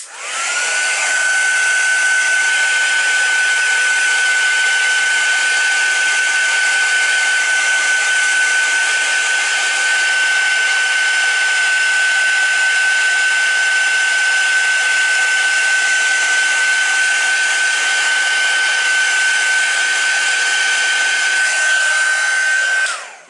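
An electric heat tool blowing to heat-set stamped ink on a card, a loud, steady whirring hum with a constant high whine that runs unbroken for over twenty seconds before cutting off.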